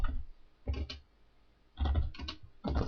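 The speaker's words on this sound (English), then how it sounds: "this time type in search" Computer keyboard typing in short bursts of quick close key clicks with brief pauses between them, quiet and alone.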